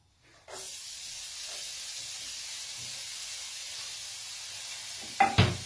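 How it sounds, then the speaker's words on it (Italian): Onion hits hot speck cooking fat in a pan and starts a sudden, steady sizzle that holds evenly throughout, with a brief sharp clatter from the utensil near the end. "potete cominciare ad aggiungere la cipolla"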